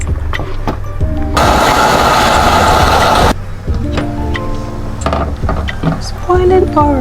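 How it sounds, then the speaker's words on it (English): A blender whirs loudly for about two seconds, grinding tomatoes and pepper in a harsh steady burst that stops abruptly, with people talking before and after. "Go ahead and blend it."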